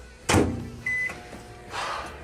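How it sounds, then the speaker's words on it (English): A kitchen microwave oven, used to warm peanut butter and butter, gives a door clunk, then a short electronic beep, with a faint hum and a softer rustle after. "we're going to take our peanut butter and our butter, and we're going to microwave it"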